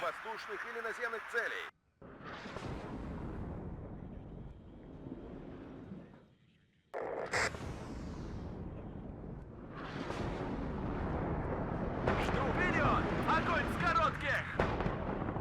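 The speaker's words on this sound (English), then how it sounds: "And artillery is no joke." Artillery barrages from the WARNO war game, with deep rumbling booms and sustained blast wash over several seconds, a sharp burst after a brief drop, and heavy continuous explosions building toward the end, under occasional talk.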